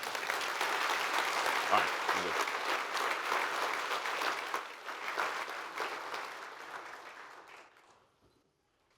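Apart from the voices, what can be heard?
audience applause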